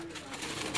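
A pigeon held in someone's hands gives a brief, soft coo, quiet and close, with a faint voice in the background.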